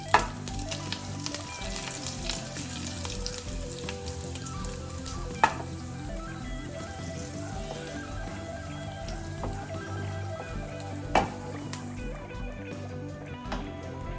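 Fenugreek, mustard seeds and dried chillies crackle in hot oil as a tempering for an ash gourd pulinkari. A steady, fairly quiet sizzle carries scattered sharp pops throughout.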